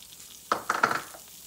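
Onions drop into melted butter for pork fried rice and crackle in a quick burst of sizzles and pops after a quiet start, then fade to a soft hiss.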